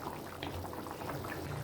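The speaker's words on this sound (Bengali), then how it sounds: "তরকারিটা আমার ফুটে গেছে।" A pot of potato curry (aloo dum) simmers at a full boil, bubbling and plopping continuously up close, with no voices over it.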